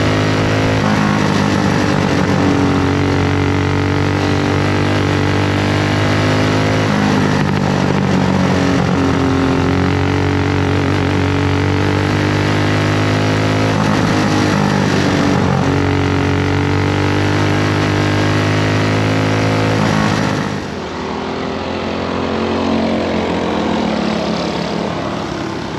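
A race vehicle running laps at the Original Speedway Park during a Friday night test and tune session, its engine a loud steady drone with rising and falling pitch as it circles, easing off near the end.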